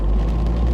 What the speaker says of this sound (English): just taking the opportunity on the drive home in the rain